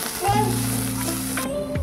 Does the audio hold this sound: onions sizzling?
yes